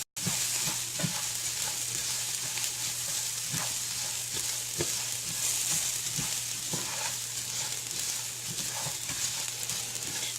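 Rice fries in a pan for Mexican-style rice, a constant loud sizzle broken by soft scraping taps as it is stirred, close up with no talk.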